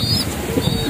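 Racing pigeons at a breeding loft give soft, low cooing up close, a short burst of throaty murmurs lasting about a second.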